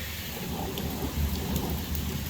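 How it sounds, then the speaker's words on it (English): A thunderstorm heard through an open door, with rain pouring down steadily and thunder crackling and rumbling low underneath, loud and continuous throughout. "Hear that crackling thunder?"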